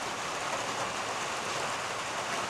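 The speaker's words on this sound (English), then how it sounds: "Here's the rain." Steady, dense hiss of rain falling, constant and even throughout with no voices.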